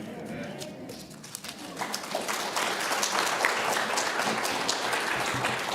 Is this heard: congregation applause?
yes